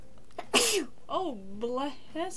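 A single sharp sneeze bursts out near the start, followed by a person talking over a video game.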